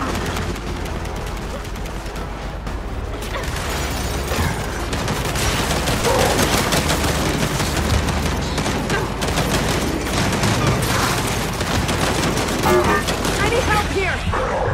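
Turret gunfire in the Gears 5 campaign: dense, continuous rapid shots and booms keep up throughout, loud and close, with a voice talking over the din.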